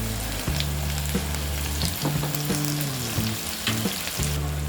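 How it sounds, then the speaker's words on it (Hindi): Sliced okra with turmeric sizzles steadily in hot oil as it is tossed in a pan for an Andhra-style dry bhindi fry, with constant crackling and occasional soft scraping and clinks, close and alone. "हम इसे टॉस करते हुए फ्राई करेंगे।"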